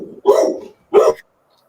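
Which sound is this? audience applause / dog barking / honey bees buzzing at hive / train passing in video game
dog barking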